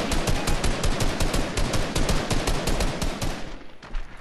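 Rapid gunfire in the Fortnite video game rattles on in dense bursts for several seconds, loud and close, then thins out toward the end with no one talking.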